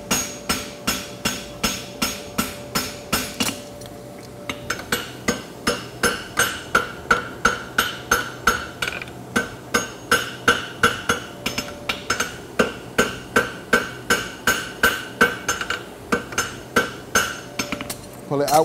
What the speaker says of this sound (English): Pull it out with the round of the hammer again.